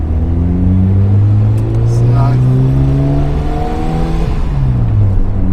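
A 1996 Mazda RX-7 FD3S with a FEED widebody kit on a road drive, its rotary engine giving a steady loud drone with gear-change pitch sweeps, and a voice speaking faintly over it.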